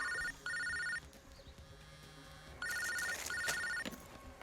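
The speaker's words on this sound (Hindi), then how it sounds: "तेरा फोन बज रहा है" A telephone rings in repeated electronic bursts with pauses between them, fairly loud and close, with faint background noise.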